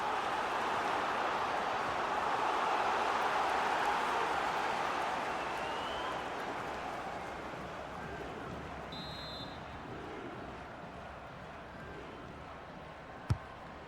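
A broad, steady wash of crowd noise fills a football stadium during a women's international friendly, sustained and distant, swelling slightly then easing, with a brief whistle-like tone and a single sharp knock near the end.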